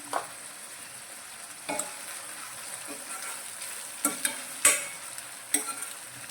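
Tomatoes and salt in a pan get stirred, faint soft sizzling broken by a few sharp spoon clanks and scrapes against the pan at irregular intervals.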